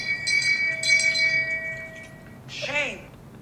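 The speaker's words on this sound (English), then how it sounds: "Where's the Shame Bell app?" A shame bell sound effect rings out from a phone app: a couple of clear bell tones ringing on, then a descending warbly tone, with people talking around it.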